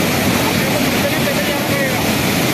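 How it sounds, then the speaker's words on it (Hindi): Floodwater rushes under a culvert, a record flood on the river, heard as a loud, constant roaring wash of water close by with someone speaking over it. "बहुत ज़्यादा पानी आ रहा है।"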